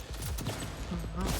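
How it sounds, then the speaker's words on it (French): Burst of gunfire laying down covering fire in the video game Cyberpunk 2077, rapid loud shots packed into a moment of dense, clattering combat noise. "Tir de couverture."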